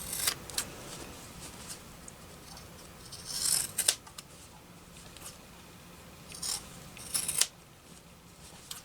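Scissors cut fabric pieces for microwave bowl cozies in a few quiet, close clusters of crisp snips spread across a mostly hushed stretch.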